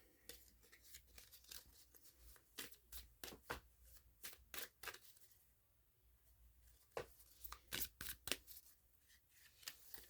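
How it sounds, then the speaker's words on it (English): A deck of cards riffled over and over, each shuffle a quick bright flutter of snapping cards, repeating in bursts with short pauses, close and fairly quiet in a still room. "Shuffle 3 times and cut the deck."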